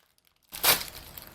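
Paper crinkles and rustles while it is handled during model railway building, a short close crackle that starts after a near-silent moment and fades off in small crisp rustles.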